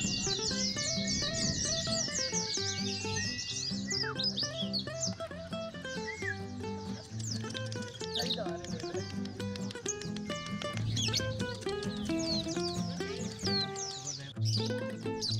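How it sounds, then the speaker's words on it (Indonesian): Lovebirds and canaries sing at a bird song contest in Buleleng, Bali, with dense, overlapping rapid trills, chirps and whistles from many birds, continuous and loud throughout. "ratusan warga di Buleleng Bali mengikuti Lomba Kicau Burung"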